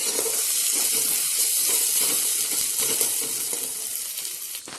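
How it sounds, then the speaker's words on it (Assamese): Spices sizzle steadily in a hot pan with onions while a chicken and white gourd curry is cooked, giving a continuous, close, crackling hiss throughout. "এতিয়া আমি অকণমান আৰু মছলাখিনি ভাজা খাব দিম"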